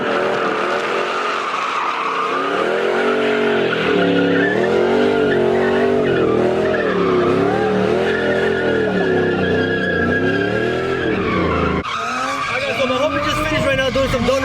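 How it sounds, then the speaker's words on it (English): A car spins donuts in the pit area of a Las Vegas car meet, its tires skidding and squealing in a long, loud, wavering howl over the revving engine, with a sharp shift near the end. "Doing some donuts right here in the pit."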